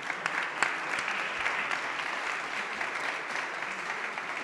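At the CNE2022 conference, the audience keeps up steady applause across the whole stretch, a dense even patter at moderate distance with no voices over it.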